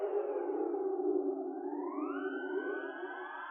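A wide, siren-like tonal sweep spread across a vast simulated space by a spatial plugin, dipping and then rising in pitch with layered echoing partials, steady and fairly loud, no voices.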